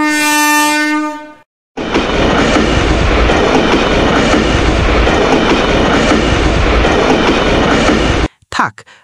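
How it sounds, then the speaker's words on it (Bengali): A cartoon train passes close by, opening with a loud horn blast, then a short gap, then a long, dense, loud clattering rumble that cuts off abruptly near the end. "সামনে দিয়া রেলগাড়ি চইলা গেল যে কানের কাছে এক ঝাঁক ঝনঝন শব্দ হইল"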